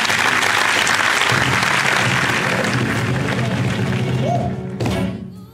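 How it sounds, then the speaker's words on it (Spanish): Studio audience at a Spanish-language Christian TV program applauding loudly to welcome a phone caller, dense continuous clapping that holds strong for about four seconds, then thins and fades with a few scattered claps at the end. "vamos a recibir a Jairo con un fuerte aplauso."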